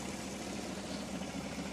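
A 2014 Chevrolet Silverado with a straight 3-inch exhaust and dual 5-inch tips idles in a steady, low, muffled drone, constant throughout with no revving.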